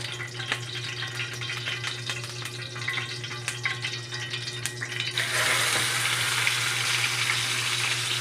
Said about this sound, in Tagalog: Yan mga idol, mainit na yung mantika. Ilagay na natin itong bangus.